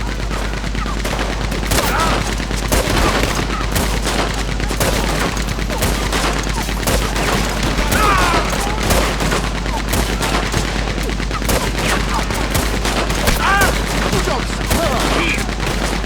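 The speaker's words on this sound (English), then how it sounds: "Look out, he's firing. Hell, that gun will shoot." A loud, continuous shootout in the video game Red Dead Redemption 2, with dense rapid gunfire cracking throughout, shouted voices faintly mixed in under a constant low rumble.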